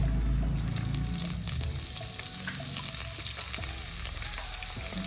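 Garlic, ginger and plenty of curry leaves fry for a mutton chatti curry in a continuous, close, busy sizzle, with scattered clicks and scrapes of stirring and no talking.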